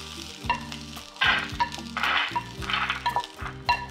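Pavta bean pods roast and sizzle on a hot tava while being stirred, with a steady frying hiss and repeated scraping and clinking of a spatula against the pan.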